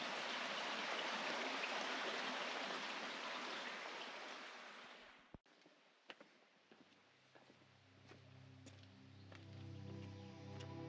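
Clear creek water flowing through a rocky gorge in Karijini National Park, a steady broadband rushing that is loud at first, then cuts off and gives way to a quieter trickle with low hum and scattered ticks.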